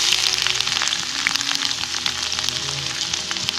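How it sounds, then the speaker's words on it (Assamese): Ginger and garlic fry in hot mustard oil in a wok, giving a dense, crackling sizzle with frequent sharp pops, close and steady with no talking. "কেৰাহী গৰম কৰি ল'লোঁ সৰিয়হৰ তেল দিলোঁ তেলখিনি গৰম হ'ল ইয়াত এতিয়া প্ৰথম আদা নহৰু"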